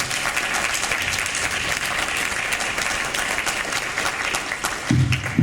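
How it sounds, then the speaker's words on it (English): A San Diego Comic-Con 2015 panel audience applauds a guest's introduction, a dense, sustained burst of many people clapping with faint cheers, a low bump of a voice or handling near the end. "Let's have a round of applause to introduce him."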